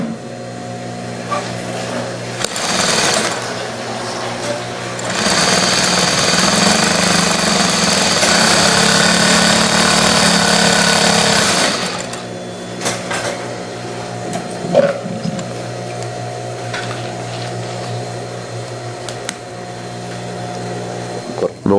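Industrial straight stitch sewing machine running flat out with the pedal fully pressed, a loud sustained motor whir and rapid needle clatter for several seconds, bracketed by quieter idle hum and light handling noises.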